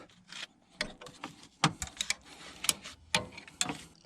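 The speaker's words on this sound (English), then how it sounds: "I'm gonna get in there with a wrench, a ratcheting wrench, and get these guys loose." A ratcheting wrench works loose 10 mm bolts on a 6.0 Powerstroke turbo, giving close, sharp metallic clicks and ratchet bursts in uneven clusters with short pauses between them.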